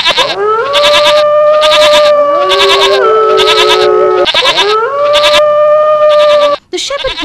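Sheep bleat loudly and repeatedly, long wavering cries overlapping one another close by, with a strange rhythmic buzzing pulse layered over them.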